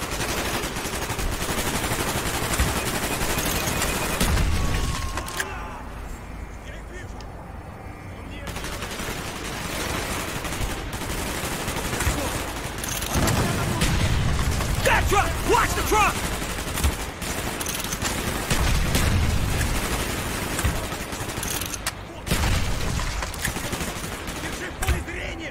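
Gunfire in a Call of Duty Black Ops firefight: bursts of automatic fire and scattered shots run through the whole stretch, loud and close, with brief lulls and game battle noise around them.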